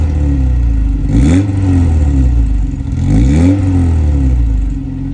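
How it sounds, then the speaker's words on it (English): A 1991 Volkswagen Corrado engine with an aftermarket exhaust revs up twice with a deep, throaty exhaust rumble, pitch rising and falling, loud and close, over a steady idle. "You have an aftermarket exhaust."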